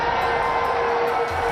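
A cricket crowd at a home Test match in India cheering a batsman's shot, a steady, dense roar of many voices throughout, loud and sustained.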